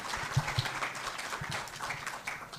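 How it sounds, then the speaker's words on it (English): An audience at a leadership selection event claps in steady, moderately loud applause that carries on throughout, with no voices on top. "A round of applause for him, please."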